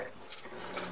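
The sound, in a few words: water running from tap, rinsing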